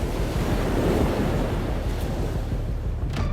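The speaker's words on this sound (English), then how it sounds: "This is the Drake Passage, one of the world's most dangerous stretches of water." Rough open-ocean surf and strong wind in the Drake Passage, where the Atlantic meets the Pacific, a steady, loud wash of breaking waves with constant wind buffeting the microphone and no voices.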